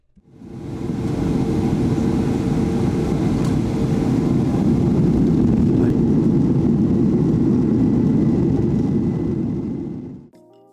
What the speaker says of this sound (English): pretty soon it was time to head to the runway for takeoff and leave Newark Airport behind